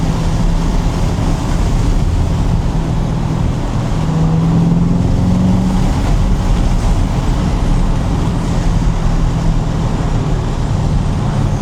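A C8 Corvette Z51 with a 495-horsepower engine pulls hard down a back road, its steady, loud roar and road noise filling the whole stretch close up, with no voices over it.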